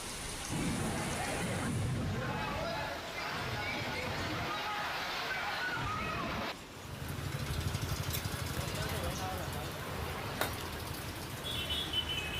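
Heavy rain pours steadily during a thunderstorm in Gujarat, with low rumbling thunder under the downpour and a sharp crack midway, a dense close wash of sound throughout.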